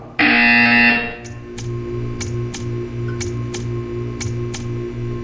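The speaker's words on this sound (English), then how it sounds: "You will hear a buzzer." In Portal 2, a loud electronic buzzer blares for just under a second, then gives way to a steady, rhythmic ticking over a low mechanical hum.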